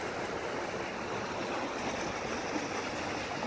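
Water draining out of floating walkways at a lakeside park, a steady close rushing and gushing flow, continuous and fairly quiet, with no voices.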